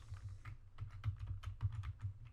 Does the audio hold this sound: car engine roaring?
no